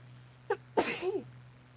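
A single sharp human sneeze, preceded by a brief sharp intake of breath, close and fairly loud over a steady low hum, with no talk.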